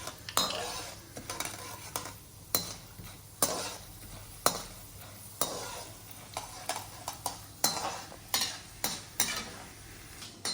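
Sizzling in a hot pan as chana dal and urad dal fry in oil after mustard seeds pop, under repeated sharp scrapes and clinks of a spoon stirring against metal, close and irregular.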